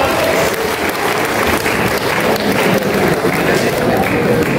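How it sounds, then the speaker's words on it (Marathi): A crowd at a political party workers' rally in Maharashtra claps in sustained, dense applause that fills the whole stretch loudly and evenly, with a murmur of voices mixed in. "टाळ्या वाजवून यांचं स्वागत करूया."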